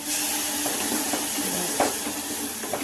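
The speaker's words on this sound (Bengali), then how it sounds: "জল নিয়ে ওর মধ্যে জলটা ছিটিয়ে ছিটিয়ে দেবো" Water sprinkled onto semolina cooking in a hot pan gives a loud, continuous steamy hiss, with a few brief crackles and spits rising over the steady sizzle.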